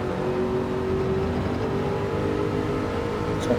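A race car's engine drones steadily and loudly at high revs from an onboard view in a racing game lap of Laguna Seca, holding one sustained pitch with no talk.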